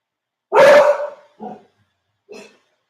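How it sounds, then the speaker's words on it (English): Dog barking indoors, one loud close bark followed by two shorter, quieter yips after pauses, with silence between them. "I was about to, my dog is barking."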